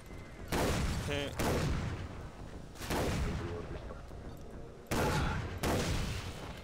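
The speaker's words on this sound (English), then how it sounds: "let's try out the shotgun" Shotgun blasts in the video game Far Cry 3 Blood Dragon, four heavy booming shots spaced about a second or more apart, each with a rolling decay, alongside occasional game sounds.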